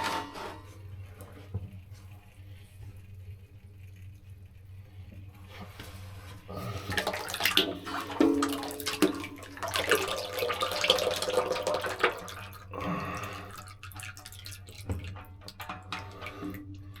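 Hydraulic oil drains from a roller compactor into a container, a pouring, splashing liquid sound that starts faint, swells louder in the middle and then tapers off.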